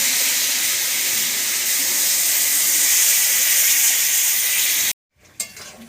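Water poured into a pan of fried spices and salt for a masoor dal curry, bursting into a loud, steady steaming hiss for about five seconds before cutting off, followed by a faint clink.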